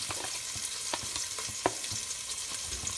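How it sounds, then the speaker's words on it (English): Chopped chili peppers, seeds included, fry in a pan for a garlic, chilli and parmesan pasta, with a steady close crackling sizzle punctuated by brief stirring clicks and pops, no talking. "So let these fry off."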